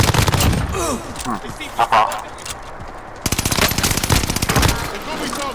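Rapid machine-gun fire in a shooter video game, long dense bursts of loud automatic shots that stop briefly and then resume, with a player talking over the shooting.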